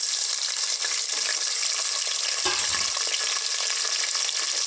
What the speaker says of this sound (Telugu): వేసుకొని వీటిని చక్కగా ఒక టూ మినిట్స్ ఫ్రై చేసుకుందాం